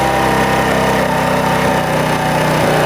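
A Honda CD70 motorcycle engine runs steadily and loud up close while its fuel mixture is adjusted, a continuous buzzing drone with a slight dip in pitch near the end.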